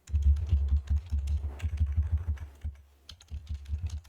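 Steady clicking of computer keyboard keys as text is typed into an HTML form field, close and fairly soft over a low steady hum, with a short pause near the end; no speech.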